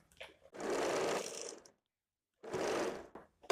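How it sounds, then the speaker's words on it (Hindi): A sewing machine stitches a waistband strip onto a size-32 high-neck blouse in two steady, fairly close bursts, the second shorter, with a silent pause between and no talking. "ऐसे ही पूरा सिलाई कर लेना है।"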